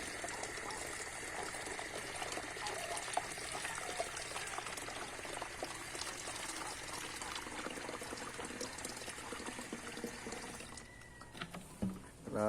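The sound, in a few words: pouring water into a chicken drinker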